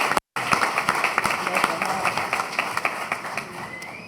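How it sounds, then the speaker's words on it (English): An audience at an annual community housing meeting applauds in a steady patter of scattered claps, moderately loud, continuing for several seconds after a brief dropout near the start. "How about one more round of applause"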